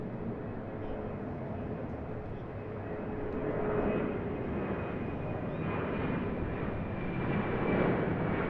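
Boeing 737 taking off from runway 34 right at Sydney Airport, a steady broad jet roar that swells slightly and holds, heard from a distance with no voices.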